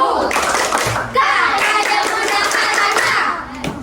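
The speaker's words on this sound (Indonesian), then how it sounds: "Coba kita bikin tepuk pramuka." A group of schoolchildren performs the Indonesian Scout rhythmic clap, patterned hand claps mixed with young voices and crowd noise, loud and close, tapering off near the end.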